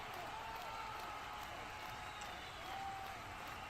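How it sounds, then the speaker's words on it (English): Travelling Newcastle supporters give a sustained round of applause for Will Osula as he is substituted during a Premier League match away at Nottingham Forest, a steady distant crowd wash lasting throughout. "a rousing round of applause from the travelling Newcastle support for Will Osula"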